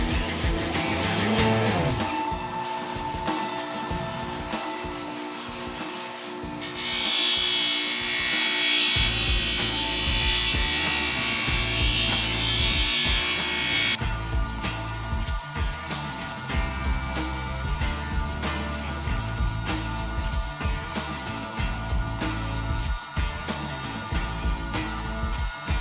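A power grinder works a caboose restoration part down close to a marked line, a steady harsh whine that shifts tone and intensity as the tool bears on the piece, running without talk.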